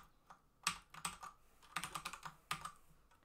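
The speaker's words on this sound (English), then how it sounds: "So I can now type in body." Keystrokes on a computer keyboard typing a short word, several quick close clicks in small bursts separated by brief pauses, near and clear over a quiet room.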